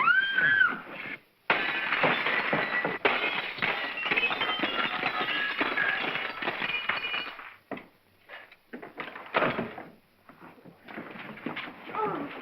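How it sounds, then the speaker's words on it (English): In a 1941 comedy film, a glass pane in a door is smashed, giving a loud shattering crash followed by tinkling and clinking shards, with scuffling and brief voices. "May I suggest, sir, that you break the glass?"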